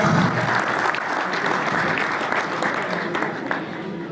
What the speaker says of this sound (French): on les applaudit bien fort pour cette division 4.